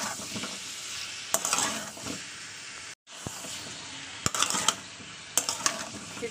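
Tilapia with tomato and green chilli stirred and sautéed in a pan over low heat, a steady sizzle broken by spatula scrapes and clinks against the pan, with one brief drop in sound midway.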